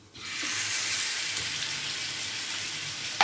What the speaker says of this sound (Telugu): రొయ్యలకి సరిపడా ఆయిల్ వేసుకుందాం. రొయ్యలు 2-3 నిమిషాలు వేపితే సరిపోతుందండి